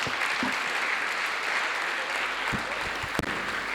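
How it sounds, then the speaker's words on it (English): Sustained audience applause at the Thabo Mbeki Africa Day Lecture, an even, moderately loud hall-wide clapping with a few sharper knocks near the end. "Another round of applause,"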